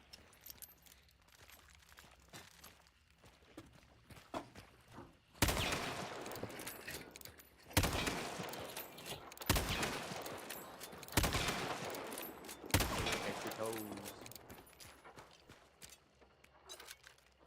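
A new gun firing in a video game, several loud bursts of rapid gunfire separated by short pauses after a quieter opening stretch, heavy and close.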